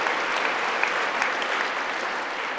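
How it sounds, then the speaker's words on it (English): A church congregation at a Bible conference gives a sustained round of clapping as a praise offering, thick and continuous, with no speech over it. "Let's give God a clap offering right now."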